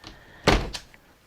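A door swings shut with one loud, close thump followed by a softer latch click and brief rattle, alone in a quiet room.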